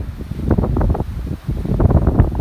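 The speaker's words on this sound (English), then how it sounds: "this wind is brutal coming off that lake" Strong wind blowing off a lake buffets the microphone on a dune rim trail at Indiana Dunes, loud low rumbling gusts that surge and dip across the whole stretch.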